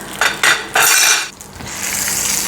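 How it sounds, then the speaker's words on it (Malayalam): Sesame chutney being mixed in a bowl with a spoon: loud, close scraping and clinking strokes, then a softer continuous rustle, with no voices. "ഇനി ഇത് നന്നായിട്ടൊന്ന് മിക്സ് ചെയ്തു."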